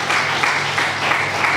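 A crowd applauding steadily at a biochemistry educational workshop, a dense wash of clapping that holds at an even level throughout.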